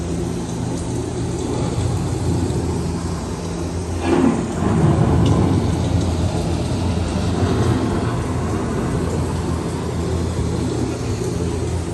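An approaching thunderstorm brings steady, loud rain hiss throughout, with a low rolling thunder rumble swelling briefly near the middle.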